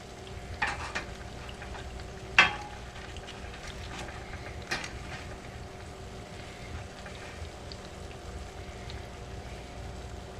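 Banana fritters frying in a pan hiss with a steady, moderate crackle throughout, while a couple of sharper scrapes and knocks from a utensil stand out early on.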